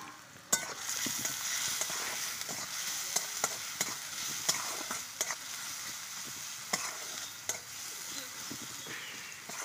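Onions sizzle steadily while frying in a pan for a pea chop, with sharp scraping stirs cutting through at irregular intervals. Close and alone, with no voices.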